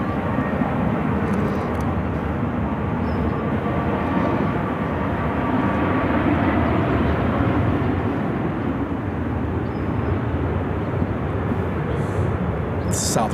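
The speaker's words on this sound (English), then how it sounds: "Southwest Flight 2517 headed to San Antonio on a 737-700." Southwest Airlines Boeing 737-700 jet departing Phoenix, a steady broadband engine roar that holds loud and close for the whole stretch, with faint talk blending in underneath.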